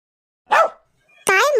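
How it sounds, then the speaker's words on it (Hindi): Dog barking close and loud indoors, two sharp barks separated by a short pause, the second longer and more drawn out, with no talk over them. "ये तुम पे क्यों भौंक रहा है अब?"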